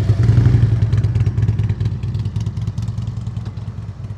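A motorcycle rolls along at slow speed during a riding skills practice session, its engine a steady low chugging rumble with uneven throttle pulses, fairly close and loud, fading slightly toward the end.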